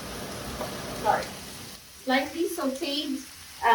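Ground beef hits a pan of lightly sautéed onions for an Egyptian dish, giving a close, steady sizzle that briefly swells, then a voice talks over the continuing fry.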